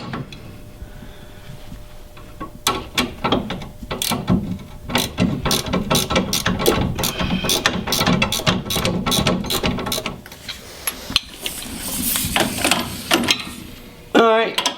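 A hand ratchet tightens a sway bar link bolt on a Dodge Caravan, giving a long run of rapid, evenly spaced clicks in bursts with short pauses, close and crisp, while a person talks at times.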